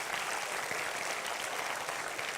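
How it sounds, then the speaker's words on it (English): Dense audience applause for a student at a university event, an even wash of clapping throughout with no voices standing out. "Let's give a round of applause to her."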